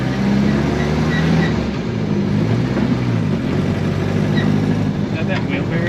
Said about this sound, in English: we got a V8 Jeep on the dyno